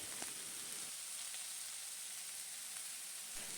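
Ground turmeric, coriander and chili powders fry in a hot pan for a tapioca curry, giving a steady soft hiss and sizzle with light stirring and no voices.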